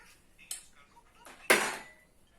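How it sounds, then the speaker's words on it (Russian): A child throws a fork at the table, giving a light metallic clink followed a second later by a louder clatter of cutlery against dishes, close and brief. "Зачем ты вилку бросила?"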